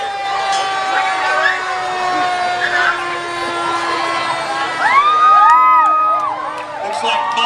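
A parade crowd at a high school homecoming rally cheers, whoops and shouts for the Roseville Fire Department, children's voices rising over steady chatter, with sustained tonal siren or horn sounds running beneath and brief rising-falling swoops near the end.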